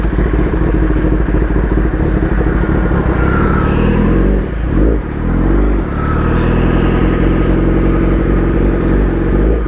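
Superbike engine revving loudly and steadily as the throttle is opened gently, with a brief dip and rise in the middle, the motor running close by throughout.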